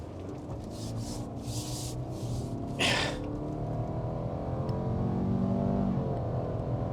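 A 2022 Subaru Outback with its CVT in manual mode accelerates from inside the cabin, a muffled engine note climbing smoothly in pitch under steady road noise, with a brief rubbing sound near the start.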